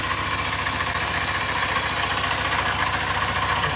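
A brand-new vehicle's engine idles while warming up, giving a steady, even mechanical hum with a constant vibration throughout, close and alone with no talk.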